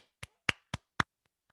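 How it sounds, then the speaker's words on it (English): Four crisp, sharp hand claps in a steady rhythm, close and clear, followed by two faint taps in a quiet room. "Can we get a clap?"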